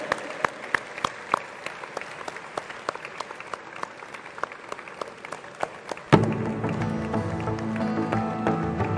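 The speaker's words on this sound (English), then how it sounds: "Let's welcome them with a thunderous applause on stage." An audience applauds at the opening ceremony of the 52nd International Film Festival of India: scattered sharp claps at first, then a sudden swell into full, loud applause joined by music.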